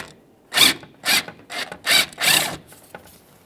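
Wrench or ratchet working a 10mm bolt on the washer reservoir of a 2013-2020 Ford Fusion, giving five loud, close rasping turns in quick succession, each about a third of a second long, then a fainter click.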